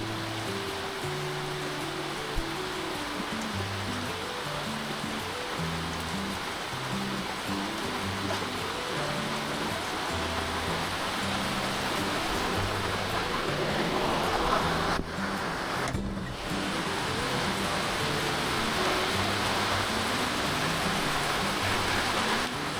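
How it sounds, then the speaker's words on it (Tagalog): Steady, dense hiss of monsoon rain falling, an even wash of noise throughout with a brief louder swell partway through. "Ulan."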